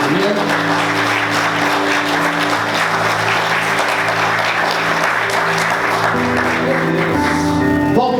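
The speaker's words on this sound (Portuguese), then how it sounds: "Vamos aplaudir Jesus bem forte" A church congregation applauding during a worship service: continuous, energetic clapping from many people over sustained organ or keyboard chords, loud and close, with a shift in the music near the end.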